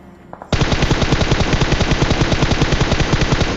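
Sustained automatic gunfire sprays in a rapid, steady burst in a video game, loud and close, bursting in abruptly after a quiet moment and continuing unbroken to the end with no talk over it.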